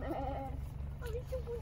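Sheep bleat in short wavering calls over a steady low hum, with faint talk nearby and many animals gathered close by.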